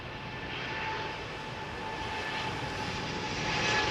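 A DC-8 jet airliner passes over London Heathrow near runway 27R, its engines making a steady, broad roar that swells gradually louder over a few seconds, with no voices.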